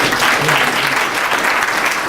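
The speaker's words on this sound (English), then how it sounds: "let's give our panelists a round of applause" An audience at a 2014 Clayton County business forum applauds the panelists with a full, sustained round of clapping from many hands, loud and even throughout, with no voices heard.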